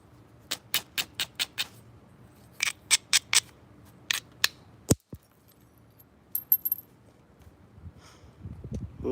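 A hammerstone strikes dacite while flint knapping, giving a close series of crisp ticking blows, first in a quick regular run, then in short clusters with pauses, against a quiet background and no speech.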